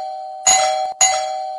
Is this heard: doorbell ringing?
yes